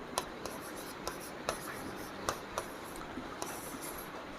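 Pen writing a maths formula by hand, producing a steady, soft scratching with small taps as strokes begin, close and quiet over low room noise.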